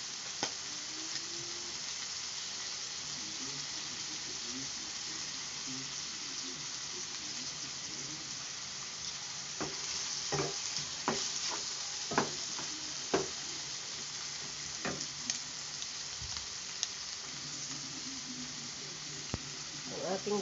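Tomatoes and vegetables such as radish and carrots sizzle steadily in a pan, a soft continuous fry with scattered clinks and scrapes of stirring, heard close and alone.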